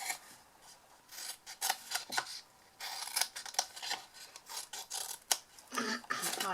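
Scissors or a blade cut small wedges out of the corners of a paper gift box lid, giving close, scratchy rasping cuts in short uneven bursts with no talk.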